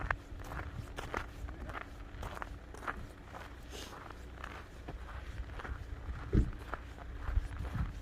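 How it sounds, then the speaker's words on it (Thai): Steady footsteps crunch along a trail in Norway near melting snow and icy cliffs, an even walking rhythm close by with faint outdoor background and no speech. "อันนี้เราก็จะเดินยากจะพาเดินไปดูจ้ะ"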